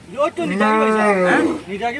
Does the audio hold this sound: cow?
yes